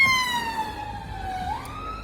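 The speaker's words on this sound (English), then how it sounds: "Oh, ambulance." An ambulance siren wails past, its tone sliding steadily downward as it recedes, then rising briefly near the end, with a steady hum of street noise underneath.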